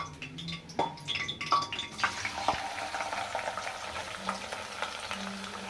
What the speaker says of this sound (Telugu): ఇప్పుడైతే ఈ ఆనియన్ వేసేస్తున్నాం ఆయిల్లో